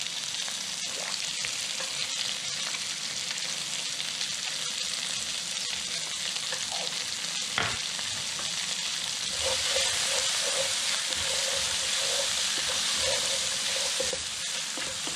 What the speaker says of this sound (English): Don't want to cook these peppers too much.